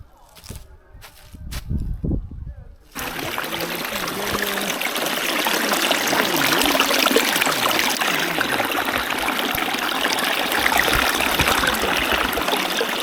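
A small stream of reddish water trickles steadily through a ravine, a continuous close babbling flow that swells in after a few footsteps and brief rustling at the start.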